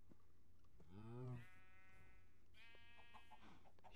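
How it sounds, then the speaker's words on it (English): A sheep bleats in Minecraft, one drawn-out wavering bleat followed by a second fainter bleat a moment later, heard over quiet game ambience. "Shut up, sheep."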